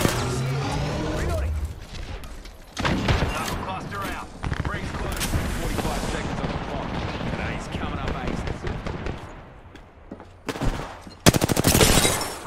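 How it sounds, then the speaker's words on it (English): Rapid bursts of video game gunfire in a multiplayer shooter, automatic fire crackling repeatedly across the stretch with loud sharp volleys, mixed under players talking. "I was getting shot by the other guys."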